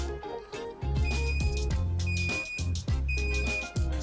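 Short electronic beeps repeat at a steady pace over loud rhythmic music with a heavy thumping beat.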